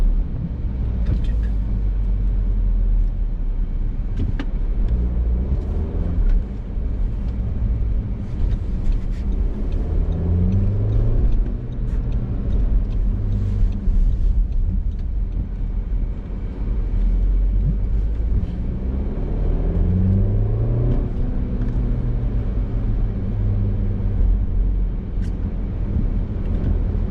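An Audi Q3's engine hums steadily while driving, a loud, continuous low rumble with gentle swells as the car accelerates and cruises, close to the microphone throughout.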